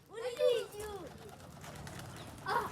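Pigeons cooing softly at close range in a village, a few throaty warbling coos early and again near the end, with a person talking quietly in between.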